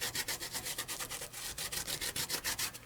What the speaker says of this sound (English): we are just going to burnish in there